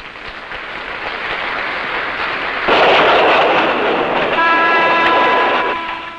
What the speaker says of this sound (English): This guarded train, preceded by an armored pilot engine, takes 2 days to travel the 400 miles from Rangoon to Mandalay.